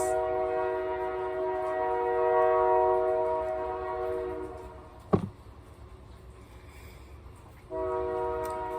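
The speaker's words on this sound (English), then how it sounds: "train." A train horn blares in a long sustained tone, fairly close and loud, then cuts off; a sharp clunk follows and the horn sounds again near the end, with no talking.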